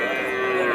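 A bull calf at a busy cattle market lets out one close, loud, drawn-out moo that holds a steady tone.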